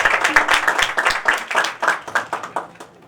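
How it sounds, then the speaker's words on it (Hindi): A church congregation claps in unison, a steady rhythmic beat of sharp hand claps at roughly three per second, fairly close and continuous with no talking over it. "खुदा के कलाम के लिए भरपूर ताली बजाएंगे।"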